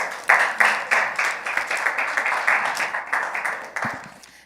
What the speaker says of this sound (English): Let's clap her up.